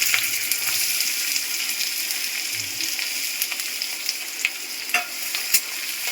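Chopped onions sizzle steadily in hot oil in a pan for a quail meat curry, a continuous close frying hiss with faint stirring scrapes and occasional soft clicks.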